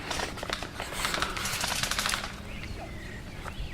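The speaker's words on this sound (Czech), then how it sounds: "Tamhle je slyšet střelba." Airsoft guns fire on an outdoor field in rapid rattling bursts, loud at first and then thinning out to sparse shots.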